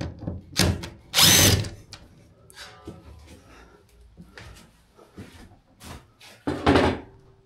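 A power drill backs screws out of a shed vent in several short, loud whirring bursts, separated by quieter clicks and handling noises.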